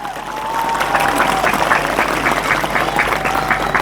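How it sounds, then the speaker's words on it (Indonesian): Audience applause for santri students at an Islamic sermon gathering, a steady burst of clapping that swells quickly and holds through the moment, with a faint voice briefly audible underneath. "Tepuk tangan untuk santri."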